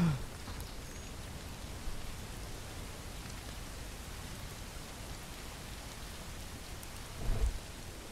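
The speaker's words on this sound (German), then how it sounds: "Es regnet auch gerade, das ist ganz gut." Rain in the video game Bellwright: a steady, soft wash of falling rain with no gaps and a brief low rumble near the end.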